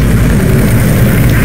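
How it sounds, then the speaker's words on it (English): A helicopter during the finale of the Left 4 Dead 2 Dark Carnival campaign, a loud, close, continuous low rumbling engine drone with no break. "Run to the chopper."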